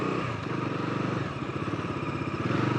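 A TVS Raider 125 motorcycle underway at a steady cruise, its engine putting out a continuous close, loud drone with a rapid pulsing throb and faint rattly clatter throughout.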